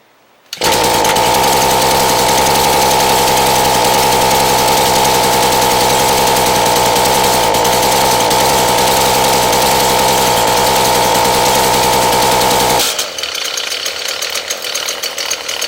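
Echo SRM weed wacker with a backed-up carburetor running loud and close after a pull start, a sustained buzzing drone holding steady for about twelve seconds before cutting off abruptly into quieter background noise.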